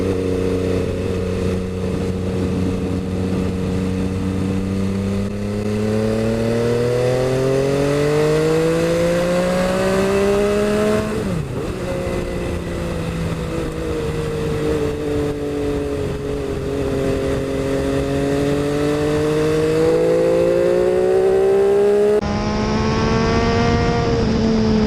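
An MV Agusta F3 800 superbike engine drones steadily while riding, its pitch rising and falling through repeated accelerations and gear changes, loud and close throughout with no talking.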